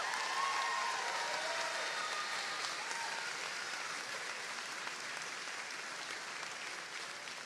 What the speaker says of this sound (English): I expect a huge round of applause for this one.